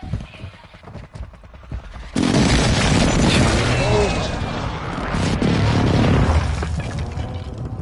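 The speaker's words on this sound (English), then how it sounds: "Friendly precision airstrike inbound." Precision airstrike explosions in Call of Duty Warzone 2 batter a battlefield: a sudden loud blast at about two seconds gives way to sustained rumbling, crackling detonations that keep going to the end, with quieter game noise before.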